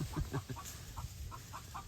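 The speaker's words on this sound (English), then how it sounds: "Apparently there's a hen laying an egg in there, and the other chickens are going crazy." Several chickens cluck in a busy, overlapping chorus while a hen lays an egg, with short excited calls over a low background murmur.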